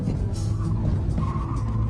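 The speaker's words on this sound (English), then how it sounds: "deliberately throw the weight to send it sideways, and then control the slide with opposite lock." A front-wheel-drive car is thrown sideways in a Scandinavian flick and held in a drift, its tyres skidding and squealing under a steady engine roar, close and loud, with no voices.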